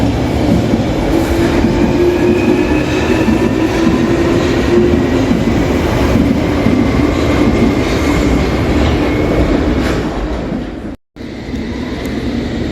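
A London Underground Jubilee Line train runs at speed with a loud, continuous rumble and rail roar, faint clickety-clack and a thin wheel whine, briefly cut out near the end.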